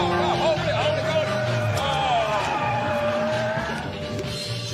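Racing car pushed hard through a slow turn, engine note rising and falling over a steady mechanical drone, with a long whining tyre squeal or skid running under the coaching voices.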